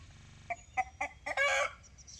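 Homestead chickens cluck in short, close bursts, a few quick calls followed by a longer, louder squawk, over a quiet background.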